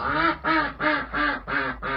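A duck quacks six times in a steady rhythm, loud and close, with short pauses between each call, in a chicken coop.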